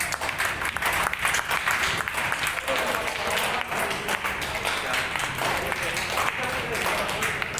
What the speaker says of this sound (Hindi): अस्पताल के स्टाफ ने महिला के डिस्चार्ज होने के समय तालियां बजाकर उनकी विदाई की